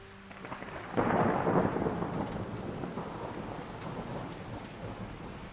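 Steady rain with a low rumble of thunder rolling in after a quiet start, the downpour continuing evenly throughout with no voices.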